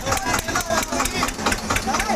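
A farmer's tractor engine runs steadily as it heads toward Delhi, a continuous mid-pitched idle with regular rhythmic pulses, close and fairly loud, with faint voices mixed in.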